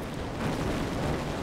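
Distant naval guns from enemy warships in a WW2 naval combat strategy game rumble as a continuous low roar of overlapping booms, with no distinct individual shots standing out.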